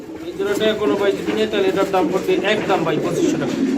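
A pair of pigeons, a black-laced male and a female, coo in rhythmic rolling phrases close by, repeated throughout while people talk over them.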